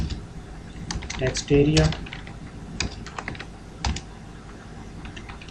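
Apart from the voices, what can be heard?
typing on a computer keyboard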